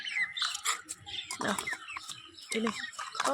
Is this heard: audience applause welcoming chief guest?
no